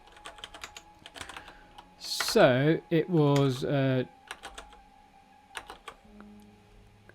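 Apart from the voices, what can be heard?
typing on a computer keyboard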